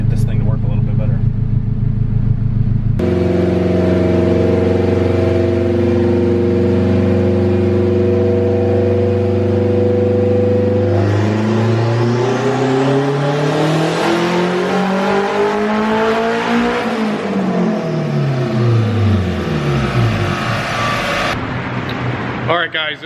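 A turbocharged K20 engine in an Acura RSX Type S with a newly changed blow-off valve revs hard, climbing and falling through several sweeping pulls after a steady idle, loud and close.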